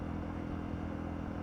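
Steady, close engine drone of a Honda CRF300L motorcycle riding along with a mechanical cable clutch and gears, humming evenly with no clear gear-change break and no talking.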